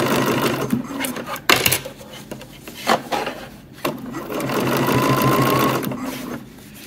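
A sewing machine stitches the folded hem of swim trunks in close, uneven bursts of rapid whirring with brief pauses and fabric handling between runs.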